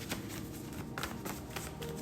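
A deck of tarot cards being shuffled by hand, soft quiet riffling and tapping repeating steadily under a hushed room tone.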